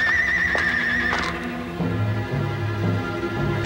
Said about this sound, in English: Shipmates, horses.